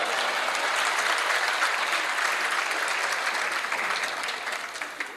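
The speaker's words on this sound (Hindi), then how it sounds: "मैं कसम खाता हूँ ये हॉल तालियों से गूंजता रहेगा।" Sustained applause from an audience filling a hall, a dense even wash of clapping that holds steady and then starts to fade slightly near the end.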